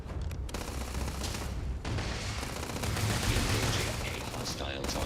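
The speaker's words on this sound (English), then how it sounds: "I am opening fire." Rapid sustained gunfire rattles in the Starfield video game, dense bursts of shots running almost continuously with brief gaps, loud and close.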